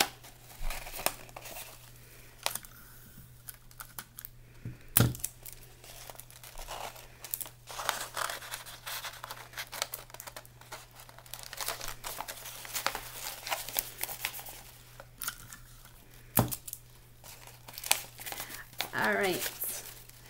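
Tape is torn and pressed on by hand while a wind sock is being made, with close, irregular crinkling and ripping sounds and faint talk underneath.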